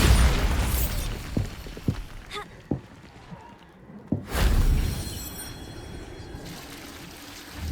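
Booming Bombarda blasting-spell explosions burst out in Hogwarts Legacy, a heavy blast at the start and another near the middle, with smaller pops and crackles of spell combat between them and no talking.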